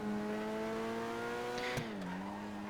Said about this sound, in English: that 4-cylinder sound still is very much present